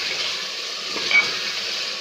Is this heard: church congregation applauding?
no